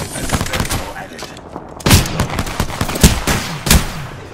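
Rapid gunfire from the Apex Legends video game cracks in loud, close bursts, with sharp repeated shots and heavy blasts overlapping across a few seconds.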